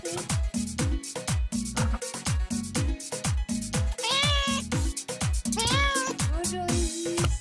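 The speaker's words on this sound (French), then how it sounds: "Alors là, c'est le petit chat qui s'appelle Isis et il est caché." A small cat named Isis meows repeatedly and loudly at close range, rising and falling calls that keep coming over a busy, rhythmic background with steady low thumps.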